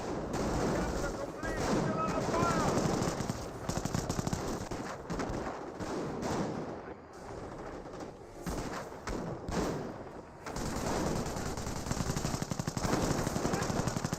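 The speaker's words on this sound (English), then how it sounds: "Taking small arms sniper fire." Small arms fire in a Company of Heroes battle, dense bursts of machine-gun and rifle shots with repeated volleys and short lulls, under a steady run of spoken commentary.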